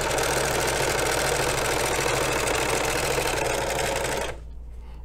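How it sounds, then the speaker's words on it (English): A Janome serger runs steadily, stitching a rolled hem with a continuous loud mechanical whir that cuts off abruptly near the end, leaving near silence. "So now I'm going to just stitch this down."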